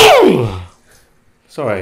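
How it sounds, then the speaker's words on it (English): A loud sneeze bursts out close by and trails off, followed by a short pause and a person starting to speak. "that was a sneeze"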